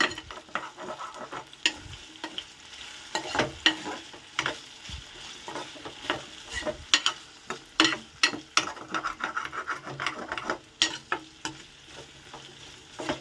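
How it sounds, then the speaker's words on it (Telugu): Potato and vegetable curry frying and sizzling in a pan while being stirred, with steady crackling sizzle and frequent sharp scraping clicks of a spoon against the pan, close and alone without talk. "వేగుతున్నాయి కొంచెం వేపుదాం"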